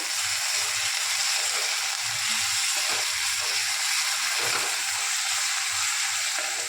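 Garlic and chilli frying in oil in a pan for a vegetable dish, a loud, steady hiss and crackle of sizzling that runs throughout, close up with no talking.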